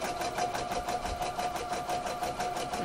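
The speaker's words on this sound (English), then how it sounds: "it's just a case of doing a zigzag stitch quite close to the edge" A sewing machine runs a zigzag stitch close to the edge of an elastic waistband, giving a steady, rapid, evenly pulsing mechanical whirr that continues without pause and with no voices.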